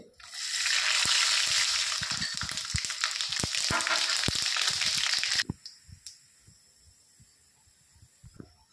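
Loud, steady sizzling of mustard seeds hitting hot oil for tempering dal, with scattered pops and spoon taps, then the frying dies down, leaving occasional clinks.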